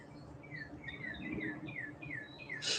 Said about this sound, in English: lots of birds talking today at the house